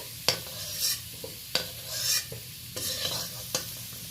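Potato pieces fry in a little oil in a pan, a soft steady sizzle broken by a few sharp spatula scrapes and clacks as they are turned, close and moderately quiet with no talk.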